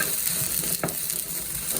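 Chicken wings for Drums of Heaven cooking in a pan with lemongrass, green chili and sauce, a loud continuous close sizzle with faint stirring scrapes.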